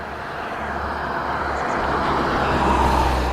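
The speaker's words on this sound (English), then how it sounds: "I'll have to wait for this car." A car rolls past near a beach entrance, a broad, steady engine-and-tyre rumble that grows slightly louder as it approaches, close by and alone without talk.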